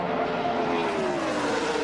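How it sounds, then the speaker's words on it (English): NASCAR Nextel Cup race cars roaring around Talladega at about 190 mph in the 2005 Aaron's 499, a steady, loud engine drone with a slowly shifting pitch that holds throughout. "it's amazing what they can do with those race cars at 190 miles an hour"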